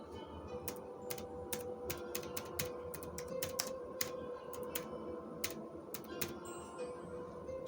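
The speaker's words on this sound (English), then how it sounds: "I'll type in Protecting Spirit." Computer keyboard keys click in quick irregular bursts as a card name, Protecting Spirit, is typed, the crisp taps close and fairly quiet over a low room hum.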